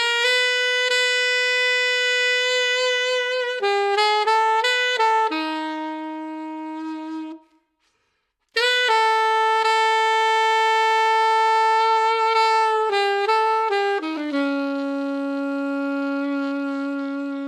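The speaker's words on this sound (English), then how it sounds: "listen to me add the first 4 embellishments to a jazz standard" A saxophone plays a jazz standard melody with embellishments, with sustained notes and quick ornamental runs, one short pause midway, then more phrases; solo and close, with no talk.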